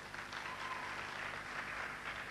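Audience at Tony Kamo's hypnosis show in Paraguay applauding, a fairly faint, even patter of many hands clapping without a break for a couple of seconds.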